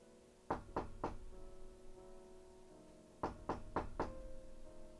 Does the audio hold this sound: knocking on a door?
yes